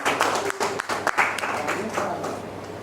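Applause breaks out from a listening audience at a poetry recital on women's empowerment, a short burst of uneven clapping with a voice speaking over it.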